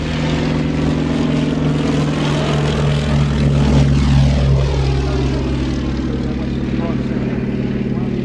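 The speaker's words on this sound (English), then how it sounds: "And we had not just one, but 2 of these fabulous, fabulous aircraft." A propeller aircraft flying at the Old Warden air display, its loud, droning engine sweeping past nearby with a rising and falling pitch as it passes.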